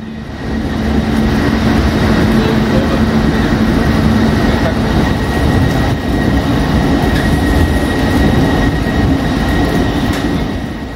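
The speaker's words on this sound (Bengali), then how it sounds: "শ্রী জগন্নাথ এক্সপ্রেস রাত্রি 11:35 এসে পৌঁছায় ভুবনেশ্বর স্টেশনে। আর এই স্টেশনে ট্রেন দাঁড়ায় 5 মিনিট।" The Sri Jagannath Express pulls into Bhubaneswar station at night, a loud, steady rumble of rolling coaches with rhythmic wheel clatter and a constant high tone, heard close and continuous throughout.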